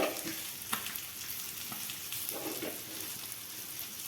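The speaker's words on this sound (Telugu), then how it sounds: "ఇంకాసేపు మళ్ళీ అట్లానే కాల్చండి తిప్పుకుంటూ కాల్చుకోండి" Fish frying in a pan of oil with curry leaves, a steady soft sizzle and crackle with a few sharper pops, close and fairly quiet.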